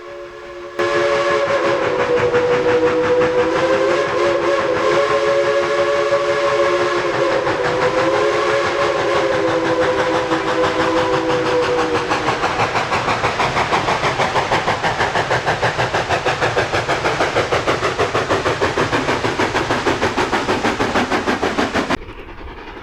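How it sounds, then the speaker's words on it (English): An ET&WNC 4-6-0 ten-wheeler steam locomotive's shrill three-chime whistle sounds in a long, steady blast with layered tones over rumbling train noise, the pitch sliding slightly near the end. "the shrill three-chime steam whistles worn by ET&WNC 10-wheelers"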